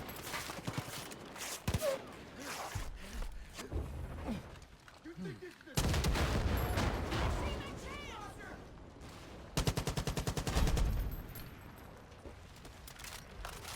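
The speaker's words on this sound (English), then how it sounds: "We got the RPG shooting at us" Rocket launcher fire and explosions from a Far Cry 5 Arcade map, an RPG shooting from a tall building with a tower, heard as several loud bursts of gunfire and blasts amid game noise, with someone talking throughout.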